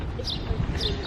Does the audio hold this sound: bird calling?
yes